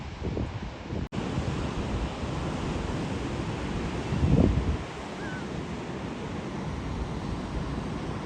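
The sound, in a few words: ocean surf at the beach near Calafia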